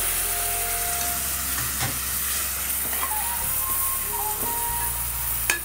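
Coconut milk hitting frying onions in a pan gives a steady, close sizzle that holds loud and even throughout, with a few faint clinks near the end.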